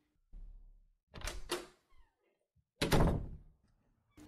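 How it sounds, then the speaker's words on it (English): A door opens with a soft thump and, after a short pause, slams shut with a sharp, loud bang, close by in a quiet room. "the door opened and slammed shut"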